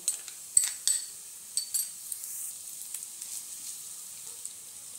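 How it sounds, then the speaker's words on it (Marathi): Ginger-garlic paste sautéing with onion in a pan for South Indian sambar, a soft steady sizzle with a few sharp clinks of a spoon against the pan, fairly quiet and close. "ही आलं लसूण पेस्ट आपण 2 मिनिटांसाठी अगदी व्यवस्थित परतून घेतली।"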